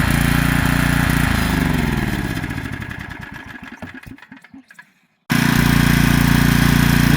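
Small Generac 3500XL portable generator engine running steadily, then sputtering and slowing to a stop, then catching again after a short silence and settling straight into a loud, even running drone.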